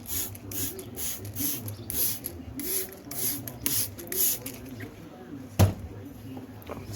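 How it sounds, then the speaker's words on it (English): Vinegar sprayed from a spray bottle onto painted furniture in a series of close, breathy spritzes at an uneven pace, followed by a single sharp knock and softer handling noises. "And you take the vinegar,"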